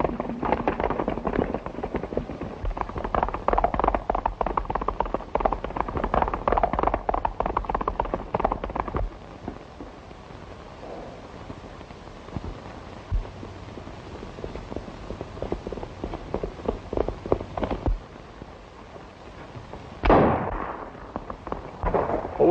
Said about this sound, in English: You shot too soon.